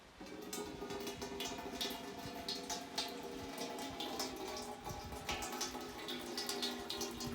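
Liquid pours steadily into a pot in the game Wizard School 3, a continuous soft splashing trickle, quiet and close, with no voices.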